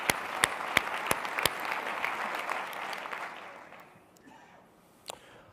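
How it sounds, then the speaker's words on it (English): An audience applauds during a BlackBerry DevCon Europe keynote, producing broad, moderately distant clapping with a few sharp nearby claps, which gradually fades to quiet. "Big round of applause to those folks."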